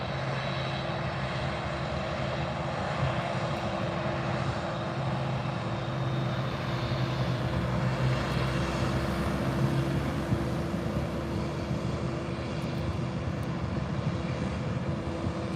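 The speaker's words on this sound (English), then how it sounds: "The Dreamliners are so beautiful." Boeing 787 Dreamliner airliner in special Qatar livery at Birmingham airport, its jet engines a steady, broad roar held at moderate distance throughout with a low tonal hum beneath, no talking.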